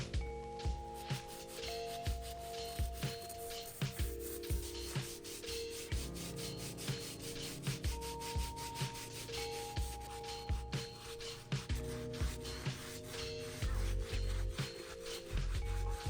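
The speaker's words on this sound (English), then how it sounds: "Now we're gonna pull out the stiff bristle brush to do the soles and the midsoles." Stiff bristle brush scrubbing the soles and midsoles of a heavily soiled 1985 Jordan 1 sneaker, a steady close rubbing rasp in repeated strokes that continues through the whole stretch, with no talking.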